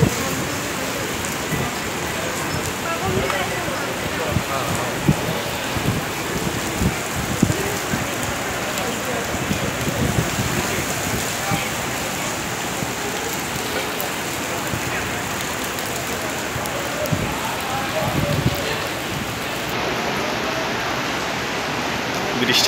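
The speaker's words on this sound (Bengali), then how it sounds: "বৃষ্টিটা আসলে সত্যিই উপভোগের জিনিস, এখানে সবাই উপভোগ করে বৃষ্টিটা" Steady rain pours down in Medina, a dense continuous hiss of drops falling on surfaces, close and even throughout with no voices standing out.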